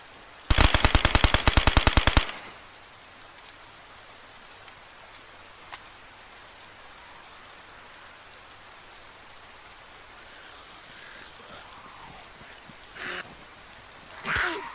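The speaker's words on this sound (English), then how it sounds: "why you have to be careful where you shoot your gun" A rapid burst of automatic gunfire in the video game DayZ for about two seconds, loud and close, then a long stretch of hissing ambient noise with a few faint distant thuds.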